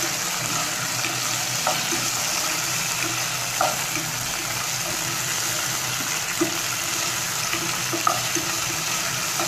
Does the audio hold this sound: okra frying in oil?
yes